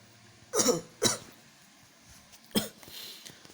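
An unwell person teaching a religious lesson coughs three times: two quick, harsh coughs close together, then a third after a short pause, with near silence in between.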